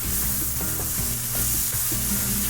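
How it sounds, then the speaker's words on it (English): A pan deglazed with white wine sizzles loudly and steadily up close, with scraping stirs against the bottom throughout and no talk. "we're going to deglaze the pan with a little bit of white wine"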